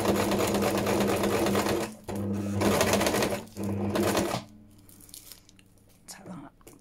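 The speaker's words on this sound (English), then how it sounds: "should just be able to sew around the tissue on this one" A sewing machine stitches fabric around tissue on a junk journal cover topper, running in three loud, rapid bursts separated by short pauses before falling quiet with faint handling sounds.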